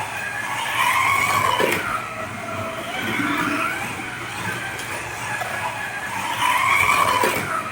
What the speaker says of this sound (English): And it does have that telltale angle winder whine to it. It is an angle winder motor setup.